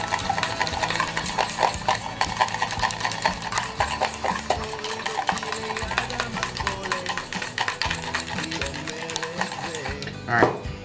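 Homemade mayonnaise ingredients stirred in a bowl, a continuous rapid clatter and scrape of utensil against the bowl, close and busy throughout, with a few louder knocks near the end.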